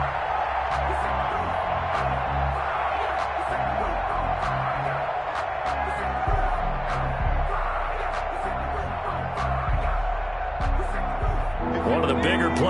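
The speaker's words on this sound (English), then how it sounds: "The crowd getting into it as we come up on a big 3rd down" Football stadium crowd roaring as a big third down approaches, a dense, steady wash of cheering that stays loud throughout, with a voice talking over it.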